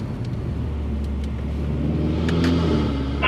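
Low engine rumble from a 2015 Subaru WRX on a test drive, heard from inside the car, holding steady then swelling slightly with a few faint clicks.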